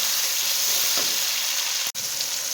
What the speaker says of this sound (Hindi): तो इसको भी हम डाल देंगे और इसको भी थोड़ा सा भून लेंगे